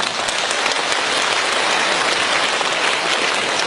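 Dense, loud applause from a large audience at a Buddhist dharma talk, continuous rapid clapping filling the whole stretch with no voices over it.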